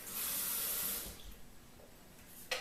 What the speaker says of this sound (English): So I'm going to just stick some water in here,